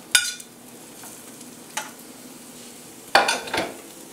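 Diced onion and garlic cooking in a pan, a faint low sizzle under a few sharp utensil clatters against the pan, spaced far apart.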